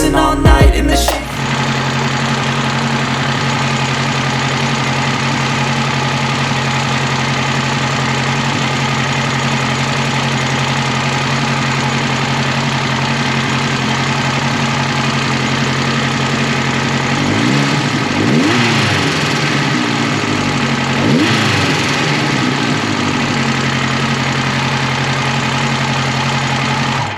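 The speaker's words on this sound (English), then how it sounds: "That was, I don't know, like 20 minutes of idling." A motorcycle with an oil leak and suspected cam trouble idles steadily and loudly up close. A constant low rumble holds for nearly half a minute, with a brief shift in the engine note partway through.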